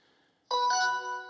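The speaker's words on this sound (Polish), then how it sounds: "Dzwonek wydaje dźwięk" A short electronic power-on chime from an Annke video doorbell sounds abruptly after a moment of near silence, a bright tonal jingle that rings and slowly fades.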